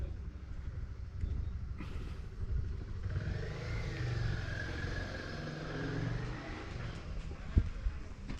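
A car passes in Sant Salvador, Mallorca, its engine rumble rising and falling over several seconds, moderately close amid wind and outdoor background noise.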